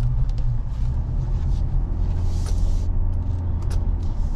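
A 2015 Ford Explorer Police Interceptor driving slowly around a parking lot, heard from inside as a steady low engine and road rumble with light rattles and no talk.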